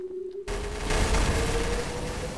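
Dense gunfire in Garry's Mod DarkRP erupts suddenly after a quiet moment, a loud continuous barrage of rapid shots that keeps going to the end.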